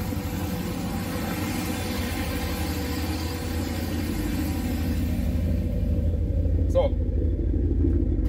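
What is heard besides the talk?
boosted 408 cubic inch LS V8 engine idling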